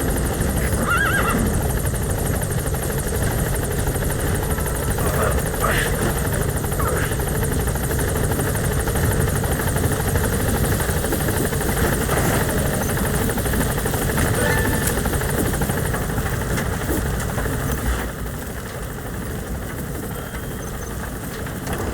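A helicopter in the video game Metal Gear Solid V: The Phantom Pain gives a loud, steady rotor and engine roar that fills the whole stretch, easing slightly in level near the end, with no talk over it.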